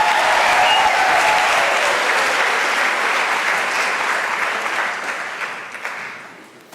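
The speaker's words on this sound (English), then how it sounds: "Let's give them a round of applause." Audience applause at a university graduation ceremony, loud sustained clapping from a big crowd that slowly thins and fades over several seconds.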